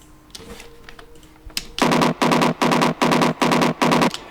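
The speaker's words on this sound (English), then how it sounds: "it's a really hard Hardpsy bass as a layer" Six loud, evenly spaced bursts of a gritty, distorted synth bass pulse hard after a few quieter scattered hits, each burst a short sustained stab.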